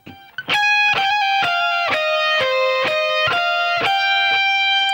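Distorted electric guitar playing a solo phrase high on the neck, a run of picked notes with hammer-ons and slides, each attack crisp and bright, sustaining loudly and alone.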